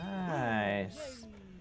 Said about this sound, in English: Oh, there's a duck.